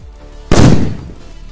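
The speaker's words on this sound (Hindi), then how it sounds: "अब हम टेस्ट करने वाले हैं इस वाले बड़े वाले सोतेली बम को" A large firecracker bomb explodes in one sharp, loud blast that decays over about half a second, with no voices.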